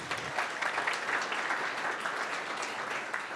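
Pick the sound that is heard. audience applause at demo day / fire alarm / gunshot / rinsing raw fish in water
audience applause at demo day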